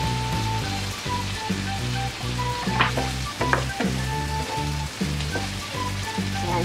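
Pork in hoisin sauce sizzles loudly in a pan while being stirred, a steady frying hiss with soft scrapes and clinks of the utensil running through it.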